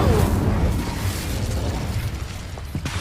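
An Incendio fire spell in Hogwarts Legacy bursts with a loud, rushing whoosh and rumble that gradually settles into a crackling roar, with a couple of sharp pops near the end.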